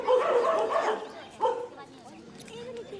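A dog barks and yips in a few quick bursts close by, with a person talking over and between the barks.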